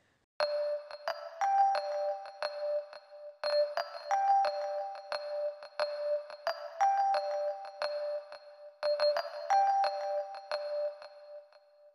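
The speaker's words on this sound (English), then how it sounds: "Another electric keyboard melody." A mellow Rhodes electric piano plays a short bell-like phrase four times over, clear and steady with no voices.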